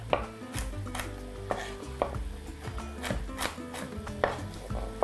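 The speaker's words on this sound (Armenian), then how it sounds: "Շատ մանս չենք կտրատում։ Ամեն ընկույզը 4 կտորի։" A knife chops walnut halves into quarters on a board for an apple cake. It makes steady, fairly crisp taps at an uneven rhythm, close by, over soft background music.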